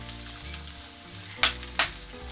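Carrot and bell pepper sizzle in a kazan over a campfire, a close steady frying hiss with two sharp bursts as more vegetables hit the hot oil, over a low hum and no speech.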